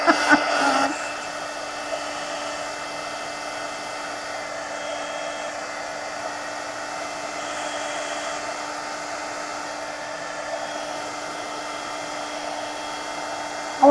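A hair dryer blows steadily on a mixed media journal page after a brief rustle at the start. The drone stays close, loud and continuous, with no talking.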